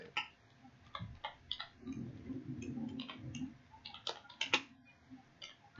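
Someone types a search on a computer keyboard, giving quiet, irregular keystroke clicks in small runs over a low background hum.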